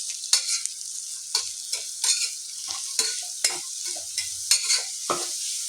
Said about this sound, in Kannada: ಸೊ ಚೆನ್ನಾಗಿ ಇಲ್ಲಿ ನಾವು ಫ್ರೈ ಮಾಡ್ಕೊಳ್ಳೋಣ ಎಣ್ಣೆಯಲ್ಲಿ